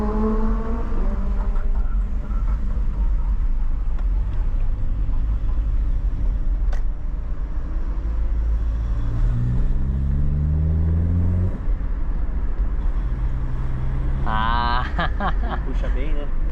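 Interior of a moving 1995 Chevrolet Astra GLS car, with a steady low engine drone and rising revs as it accelerates and shifts, a person talking throughout over the motor.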